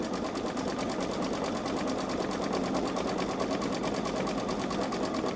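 A Babylock Solaris 3 (Vision) embroidery machine stitches an Easter design, a steady, dense mechanical whir running close and loud without pause throughout.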